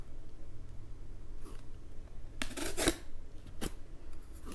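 A folding pocket knife with a 14C28N steel blade and G10 handle slices through corrugated cardboard, giving a loud tearing, crunching burst midway followed by a shorter scrape, with quiet handling noise around it.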